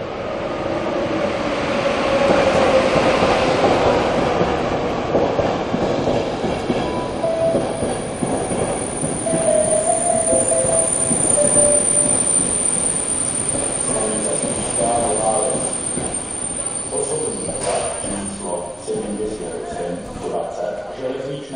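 Train arriving at platform 4 of a Slovak railway station, heavy rolling rumble with clattering wheels and high squeal, loud and continuous, while a public-address announcement plays over it.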